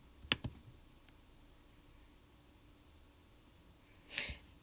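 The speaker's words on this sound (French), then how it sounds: "Je clique sur cahier de texte." A computer mouse clicking: a quick pair of sharp, close clicks at the start, a long quiet stretch of faint room hiss, then another brief click cluster near the end, with no talking.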